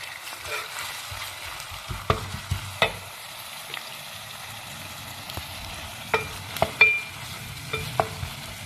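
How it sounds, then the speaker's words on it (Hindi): A tomato, ginger and chilli masala fries in a pan with a soft continuous sizzle, while a spoon stirs and scrapes against the pot in intermittent sharp clinks, heard up close. "मसाले का माशाल्लाह से देखें बुनाई जो ना शुरू हो गया, ये फ्राई हो गया।"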